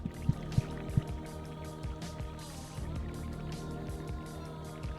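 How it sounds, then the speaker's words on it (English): Drips and sloshing water in the Psychopomp GOLD video game, a few sharp droplet plinks early on over a low, steady liquid burble and soft squishy movement, fairly quiet. "New sound effects for the water as well."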